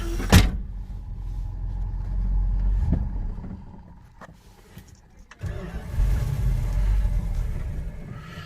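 A 1973 Dodge Dart Sport engine cranks with a low droning rumble, pauses with a few clicks, then cranks again without catching, low on fuel.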